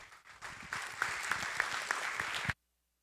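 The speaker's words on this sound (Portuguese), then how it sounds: "pedir uma salva de palmas para a nossa mesa" An auditorium audience at an international seminar claps for a panel, a dense burst of applause swelling for about two seconds with a few sharper individual claps before it cuts off abruptly into silence.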